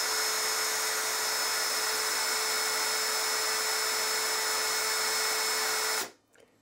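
A cordless drill with a fully charged 4 amp hour battery runs continuously in gear 1, a loud, steady high-pitched whine with a constant tone, then cuts off abruptly near the end.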